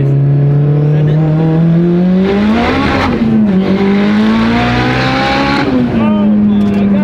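A 2.4-liter Mitsubishi Evo with a Precision 6466 turbo roars loudly on a dyno in third gear, its engine note climbing and wavering steadily throughout.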